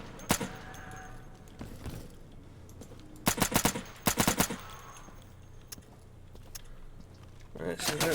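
Single-fire shots from a video game go off as short separate cracks, some in quick pairs and triplets, spaced across the clip with quiet game ambience between them.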